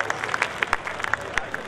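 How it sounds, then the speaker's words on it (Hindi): Audience applause at a live Hindi kavi sammelan in Bhinmal: a brief run of individual claps over a steady crowd murmur, moderately loud and uneven. "तो एक बार इनके रिश्ते के लिए जरा जोरदार तालियां बजाइए"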